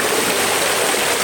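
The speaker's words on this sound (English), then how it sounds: "you can see as that water tumbles over those boulders" Water tumbles over boulders in a waterfall at an Australian water feature, a steady close rushing roar that fills the whole moment with no breaks and no voices.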